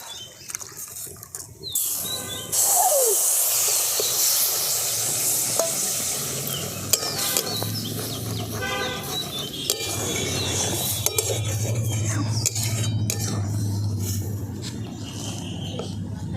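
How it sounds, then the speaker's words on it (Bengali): Peanut powder and milk are stirred together in a bowl, with spoon scraping and occasional clinks against the dish over a steady background hiss. "দুধটা দিয়ে বাদামের গুঁড়োটা ভালো করে মিশিয়ে দিয়েছি"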